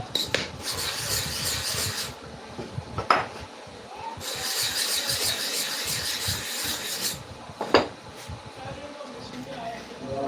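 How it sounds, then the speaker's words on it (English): Hair clipper blades are sharpened with a gritty rasping rub in two long bursts, separated by quieter handling and a couple of sharp clinks, all close and moderately loud. "So let us repeat the sharpening again."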